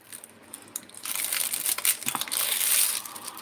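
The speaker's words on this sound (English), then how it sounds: "let's pull the plastic up the other way." Plastic sheeting is pulled up with a steady crinkling and crushing rustle that starts soft, then turns louder and denser and continues to the end, close to the listener and with no talk over it.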